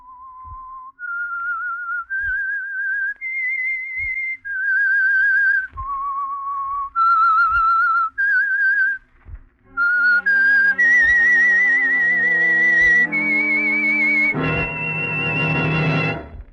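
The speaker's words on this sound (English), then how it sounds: "That whistle is your signal for the Signal Oil Program, The Whistler." A lone whistled melody opens a radio mystery program, clear sustained tones stepping up and down with brief pauses, then joined by orchestral strings and a swelling band chord at the end.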